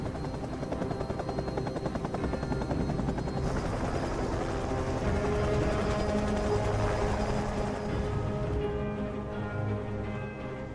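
Helicopter lifting off for takeoff in a film scene, its rotor chop and engine whine loud and steady throughout, with a dense mechanical drone that shifts slightly partway through.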